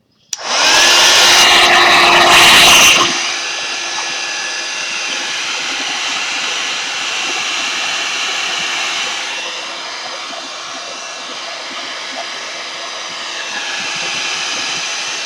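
A hair dryer blows over wet craft powders on a stamping project, starting with a loud close burst for a few seconds, then settling into a steady, slightly quieter whir that continues throughout.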